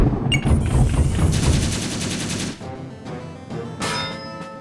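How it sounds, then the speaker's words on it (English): Rapid machine-gun fire from the ACORN Tactics video game on Nintendo Switch, a loud continuous burst of shots followed by clanging impacts and a second shorter burst, with no talk. "Machine gun."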